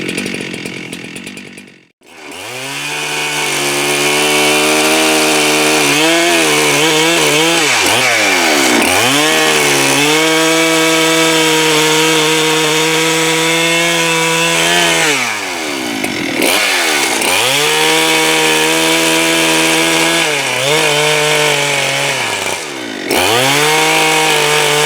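A Holzfforma G395 chainsaw cuts through a large ash tree, running loud and close. Its engine holds a steady high roar with repeated dips and climbs in pitch as the chain bites and frees, and no one speaks.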